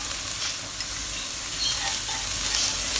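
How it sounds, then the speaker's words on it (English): Constant bright sizzling of garlic frying in a pan over medium-low heat, even and unbroken for the whole stretch, with no voices. "I'm frying this over medium-low heat because I want the fragrance to be out and yet not burn the garlic"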